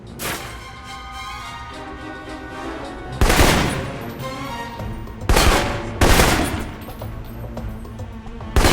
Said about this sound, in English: For long-range encounters, the assault rifle's the key. It's accurate, powerful, Just be sure to line up your shots carefully.